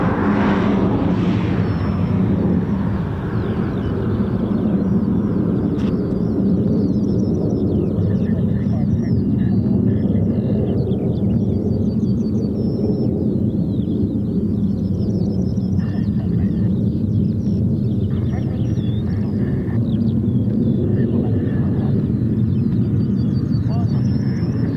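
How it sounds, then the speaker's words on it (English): Four F-35 stealth fighter jets at RAF Marham make a continuous, loud, broad roar that fills the whole stretch, with faint bird chirps above it. "Start to the morning here at Marham with 4 F-35s."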